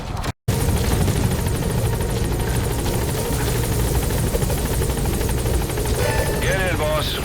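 Support helicopter arriving in the video game Metal Gear Solid 5: The Phantom Pain, a steady loud rotor roar holding throughout with brief game tones near the end and voices over it.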